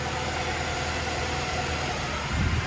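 A Mercedes C63 AMG W204 engine idles steadily after a radiator repair, heard up close with the front bumper removed, giving a constant low rumble with a slight swell near the end.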